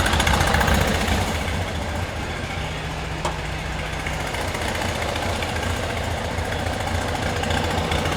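A 1971 VW Bus engine idles loud and close, a steady air-cooled rumble with a busy low-end putter that holds constant for the whole stretch, with no voices over it.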